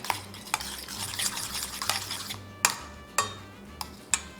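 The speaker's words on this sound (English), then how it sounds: "I'm going to combine the egg and butter with the dry ingredients and just mix that well until it's all incorporated" Egg and butter are stirred into dry ingredients in a bowl, a soft continuous mixing scrape punctuated by several sharp utensil knocks against the bowl, close, no voice.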